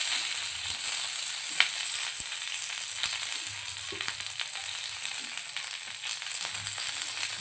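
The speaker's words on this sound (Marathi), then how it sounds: "आता लिंबुणीचा पाला टाकण्यासाठी आपण आधी तेल टाकूया आणि वरतून आपला लिंबुणीचा पाला टाकूया." Lemon leaves drop into hot oil and sizzle steadily while a black masala is being made, with a continuous close frying hiss and small scattered pops throughout.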